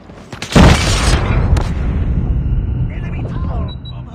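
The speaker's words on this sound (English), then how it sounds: "Watch out, grenade." A loud close grenade blast in the video game Call of Duty Mobile, a sharp boom that rolls into a long rumbling tail, with voices calling out over the game.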